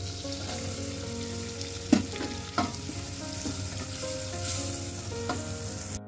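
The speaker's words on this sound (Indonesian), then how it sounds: "Tumislah bawang bombay dengan 1 sendok makan margarin, ditumis hingga layu." Onion sautés in a tablespoon of margarine in a pan, giving a constant close sizzle broken by a few sharp stirring scrapes and clinks, with no talking.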